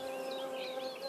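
Mining bee and bee fly buzzing outdoors near sandy ground, a close, steady high insect whine that wavers in pitch, with no voices over it.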